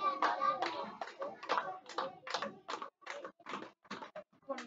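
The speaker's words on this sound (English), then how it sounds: "Clap 31 times." A class of elementary school children clapping their hands in unison, a steady series of sharp claps roughly twice per second, close and clear, with no talking.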